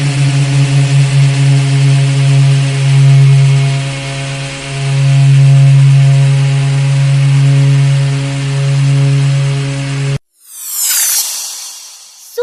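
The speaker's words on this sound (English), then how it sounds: "Propeller plane, a plane that flies using spinning propellers." A steady droning propeller engine hums with strong low harmonics for about ten seconds, then cuts off abruptly as a brief whooshing burst follows.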